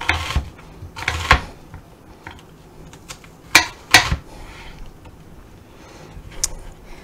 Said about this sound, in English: We are mincing it, so we're getting it nice and finely chopped.